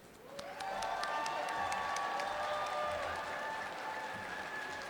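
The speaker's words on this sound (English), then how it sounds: "Please join me in giving a huge round of applause to Representative Curran." Dense crowd applause at a disability services advocacy event in a state capitol, welcoming a state representative, swelling quickly and sustained loud and steady throughout with no talk over it.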